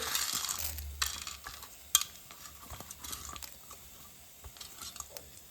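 Chana dal, urad dal and black pepper sautéing in hot oil for a South Indian dish, with soft sizzling and several scattered scrapes and clinks of a spoon against the pan, fairly quiet and close.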